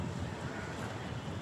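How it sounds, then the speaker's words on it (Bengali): Strong outdoor wind roars and buffets the microphone as a dense, steady rumble with no breaks. "হ্যাঁ, অনেক বাতাস হচ্ছে"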